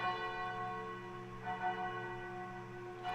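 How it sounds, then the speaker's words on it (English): Church bells chime steadily in the distance, a continuous ringing wash of overlapping tones heard alone without any voices. "you hear the sound of bells"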